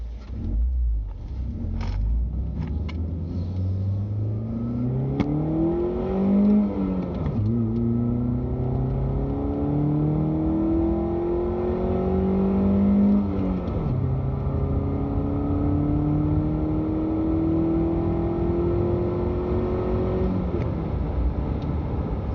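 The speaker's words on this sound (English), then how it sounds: "Air intake really adding a lot to the experience here with all that new extra noise coming from the engine" A Chevrolet Spark M400 engine fitted with a new short ram air intake revs repeatedly, rising and falling in pitch with loud, close intake roar and steady engine drone throughout, no talking.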